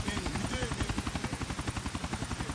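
Helicopter in GTA 4 hovering low over a shallow river, its rotor downwash pushing the water away; a rapid, steady rotor chop fills the clip with a voice speaking over it.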